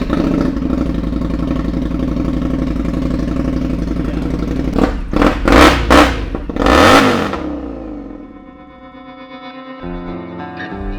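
A custom bobber motorcycle engine idles with a rough, throaty rumble, then is blipped through several sharp, loud revs before dropping back to a lumpy idle.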